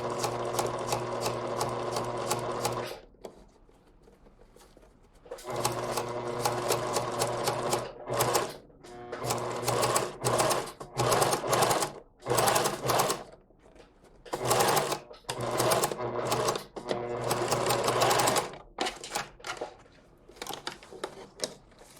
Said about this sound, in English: we're going to sew this side in like that